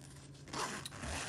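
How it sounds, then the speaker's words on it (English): A functional zipper on a collector doll's small jacket is pulled in one quick, close rasping stroke, faint and alone. "it's got this really nice zipper and it's functional"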